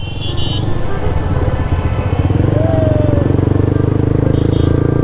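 Motorcycles, a Honda CBR and a 4V, ride together on a road, their engines droning steadily and close, with a rising whine partway through and a faint horn-like tone early on.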